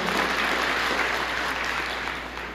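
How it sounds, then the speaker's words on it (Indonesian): A church congregation applauds during a Christian sermon, a steady, dense wash of many hands clapping that holds level throughout and eases slightly at the end. "Berikan tepuk tangan"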